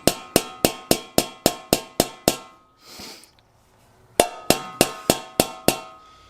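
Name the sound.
hammering metal taillight housing lips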